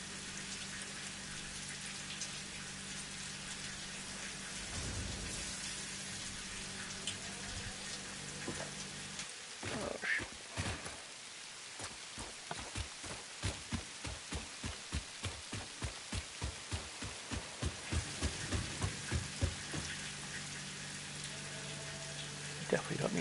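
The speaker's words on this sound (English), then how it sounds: "And it's raining again." Rain falling in the video game Satisfactory, a steady wash of drops with a dense run of crackling, pattering hits in the middle stretch; no clear thunder rumble stands out.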